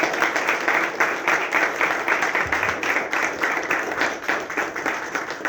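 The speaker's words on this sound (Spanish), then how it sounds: "para quien también voy a pedir unas fuertes palmas" Steady applause from an audience at a book presentation, dense rhythmic clapping continuing throughout at moderate distance with no talk over it.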